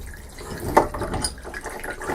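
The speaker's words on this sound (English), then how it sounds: "That's just leaking a little bit of water that's left in the kind of in the system." Residual water trickles and drips from the body of a sink tap, a soft continuous dribble with a single sharper drip or splash near the middle, close and fairly quiet.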